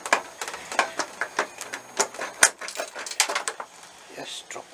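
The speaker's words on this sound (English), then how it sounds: "drop a load of washers behind them" Small metal washers fall behind the plastic fairing of a 1992 GSX600F motorcycle during a strip-down, giving a quick irregular series of light metallic clinks and rattles close by, with faint talk in the background.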